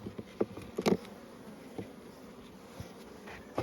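Honey bees in an opened hive buzz close by, with sharp whines as individual bees fly past the ear over a continuous low drone.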